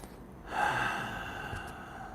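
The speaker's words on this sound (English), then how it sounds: "We take a big deep breath." A single deep breath taken during a guided meditation, a soft inhale that swells near the mic and then fades into a quiet exhale, with no talking.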